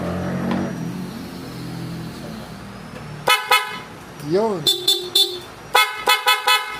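A Bosch Europa horn fitted to a KYMCO AK550 scooter gives several short, loud honks in quick bursts, close up after a stretch of quiet engine-like hum, with brief talk in between.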